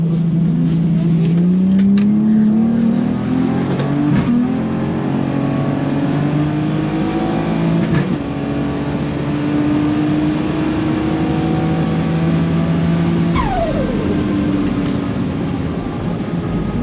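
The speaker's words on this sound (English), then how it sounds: "So this Falcon here in the left lane is all-wheel drive Barra." A Ford Falcon with an all-wheel-drive Barra engine races down a drag strip, its loud steady engine roar climbing through the gears with brief shift breaks, close and continuous throughout.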